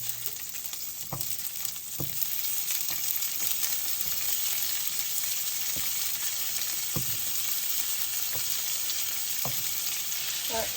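Onions sizzle steadily in a hot pan, a constant close frying hiss broken by occasional soft taps and scrapes of a utensil stirring, with no talking.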